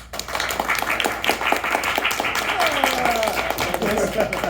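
An improv theater audience clapping hands at a showcase, a crowd of scattered claps building into steady applause, with voices and a few whoops mixed in.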